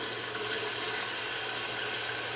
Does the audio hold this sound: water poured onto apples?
yes